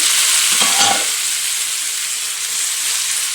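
Tomatoes frying in a pan, a loud steady close sizzle with a brief stirring scrape near the start.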